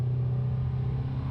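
A Caterham race car at a race start on the Silverstone Grand Prix circuit gives a steady, loud, close low engine rumble with a constant droning tone throughout, no voices.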